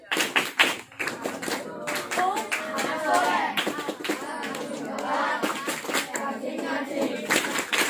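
Children clap in rhythm to a religious chant at an Islamic children's gathering, with sharp repeated claps over a steady bed of young voices chanting together, close and fairly loud throughout.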